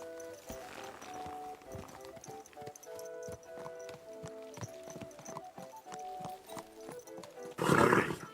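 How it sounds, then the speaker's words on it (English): Horse hooves clip-clopping in the medieval video game Kingdom Come: Deliverance 2, a steady walking rhythm of hoof beats close by over soft ambience, ending in a louder rushing burst. "Come here, horse."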